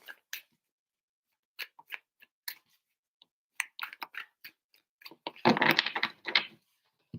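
Tarot cards being shuffled: a few scattered soft taps and flicks, then a dense, close riffling burst of cards near the end, with no voices.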